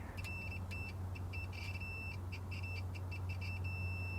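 A multimeter's continuity beeps sound as a probe touches the heater element of a GM 6.5L diesel engine block heater, giving a run of short, repeated electronic tones over a steady low hum.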